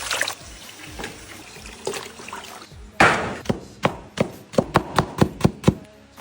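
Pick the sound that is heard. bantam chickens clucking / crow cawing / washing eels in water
washing eels in water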